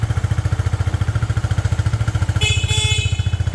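A 1981 Honda CB125S motorcycle idling close by, its small engine chugging in a steady, even pulse, with a brief higher-pitched electrical sound cutting in near the end.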